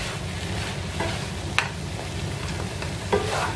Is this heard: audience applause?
no